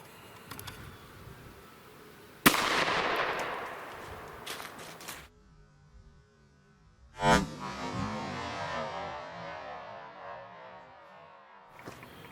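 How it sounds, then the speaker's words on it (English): Two sharp handgun shots fired into heavy winter clothing at a test range, spaced about five seconds apart, each a loud crack with a rolling, decaying tail, and no talking between them. "let's load up and shoot it with the heavy clothing"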